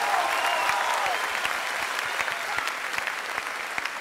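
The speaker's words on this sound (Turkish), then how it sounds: "Alkış bu değerli koroya." A studio audience at a television show applauds a choir, a full, even bed of clapping with occasional sharper individual claps, while a faint tonal voice or note lingers briefly at the start.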